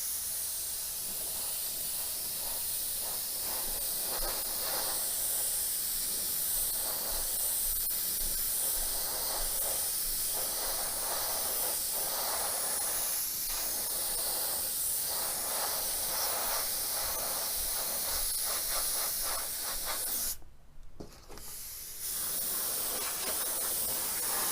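An airbrush sprays sky blue paint onto a model Antonov An-225 in a steady close hiss that runs almost unbroken, with a brief pause near the end before the spraying resumes.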